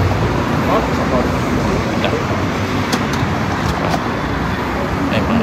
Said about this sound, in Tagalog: May mga buses dito.